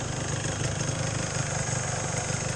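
A Yamaha RXZ135 motorcycle engine runs steadily in rain with no air filter fitted, a continuous low idling drone heard close up under a hiss of rainfall, with no talk.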